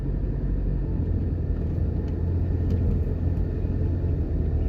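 A car driving along Ring Road on the University of the West Indies campus in Mona, Jamaica, heard from inside as a steady, loud low rumble of engine and road noise with no speech.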